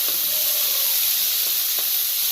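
Onions sizzle and crackle steadily in a hot pan while frying for a spicy elephant foot yam curry, a close, continuous hiss with small pops and no talking.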